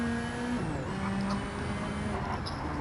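A Subaru WRX engine in Gran Turismo 7 drones at a steady pitch, its tone gliding upward briefly with a gear change, moderately quiet and continuous with no talking.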